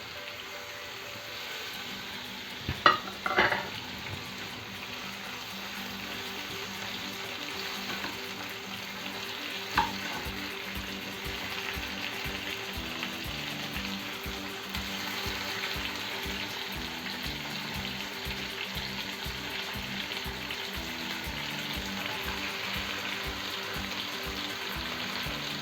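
Onions fry in hot oil in a pan with a steady close sizzle, while utensil scrapes and a couple of sharp knocks come early and rhythmic stirring follows, without speech.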